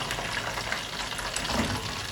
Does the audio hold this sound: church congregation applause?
no